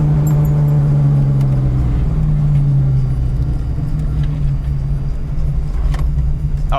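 A green 1991 Ford Mustang LX notchback on a test drive, its engine a loud, steady low rumble heard from inside the car, with a slight drop in pitch midway.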